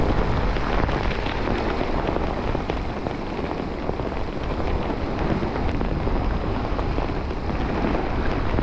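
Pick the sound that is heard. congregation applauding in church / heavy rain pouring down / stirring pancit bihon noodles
heavy rain pouring down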